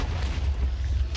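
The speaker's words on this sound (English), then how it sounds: "Look at all the explosions that's even happening here." Explosions in the Minecraft video game make a brief, low booming rumble that swells and holds for about a second.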